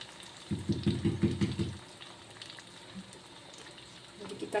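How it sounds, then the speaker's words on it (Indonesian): Spices sautéing in a pan to cook off their water for a simple home-style stew: a loud burst of frying sizzle with stirring for about a second and a half, then quieter crackling, with a short rise again at the end. "tumis dulu biar kering airnya."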